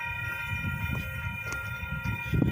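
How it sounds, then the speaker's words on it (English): Freight train passing on the rails between Sampson and York Street in Houston, a steady low rumble and clatter of cars, with a faint sustained horn tone hanging in the air. "Here comes the other train."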